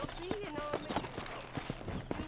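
A horse in the video game Red Dead Redemption clip-clops along at a steady trot, hoofbeats close and clear under game sounds, with a faint whinny mixed in.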